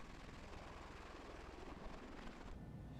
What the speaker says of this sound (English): And we saw when those helicopters were coming in there, Alan, more dust than usual being kicked up.